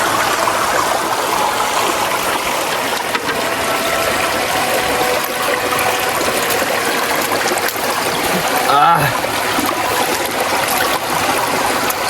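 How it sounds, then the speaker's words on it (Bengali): A small waterfall stream on the Parasnath hill trek in Jharkhand, steady running and splashing water close by, continuous and fairly loud throughout with no talk over it. "এখন নামার সময় এই একটা ছোট ঝর্ণা মতন পেয়েছি, ওখান থেকে জলটা আসছে"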